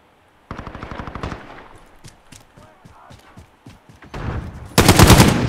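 Automatic gunfire in a Call of Duty team deathmatch: a loud rapid burst opens, then scattered shots and footsteps, and a second, heavier sustained burst closes it out, close and dense.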